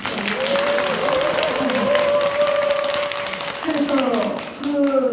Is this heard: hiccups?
no